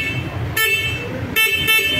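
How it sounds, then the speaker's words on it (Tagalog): A 2024 Rusi Caruza 200i horn honks three times in short bursts, the first longer, over a low engine rumble, heard from inside the vehicle. "And then, check natin yung horn."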